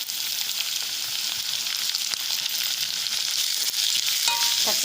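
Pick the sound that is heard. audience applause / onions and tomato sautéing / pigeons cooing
onions and tomato sautéing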